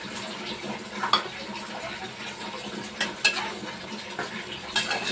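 Steady sizzling in a hot pan of matar paneer as water is added, with occasional clinks and scraping of a utensil, no talking.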